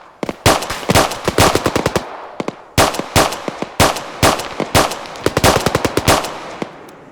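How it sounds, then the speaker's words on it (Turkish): Pistol gunfire in a first-person shooter video game: loud, close shots fired in rapid bursts of several quick reports each, separated by brief pauses and repeating throughout. "Tabancayla öldürüyorum adamları."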